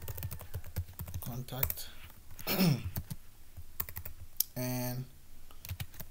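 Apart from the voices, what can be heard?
typing on a computer keyboard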